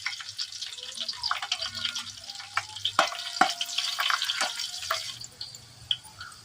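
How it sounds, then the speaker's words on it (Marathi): Cumin seeds sizzle and crackle in hot oil for tempering, a busy run of sharp pops and spits over a soft frying hiss that fades near the end. "फोडणीला तेल तापवायचं आणि नंतर त्याच्यात जिरं टाकायचं जिरं जिरं तडतडलं चांगलं"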